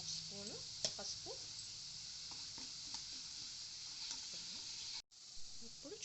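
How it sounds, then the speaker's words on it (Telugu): Dried red chillies and other ingredients fry in oil in a home kitchen pan until reddish, giving a steady close sizzle with a few light stirring scrapes and a brief dropout near the end. "ఇవి కొద్దిగా ఎర్రగా వచ్చేదాకా వేపుకుందాం."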